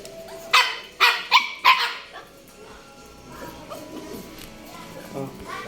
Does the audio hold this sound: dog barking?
yes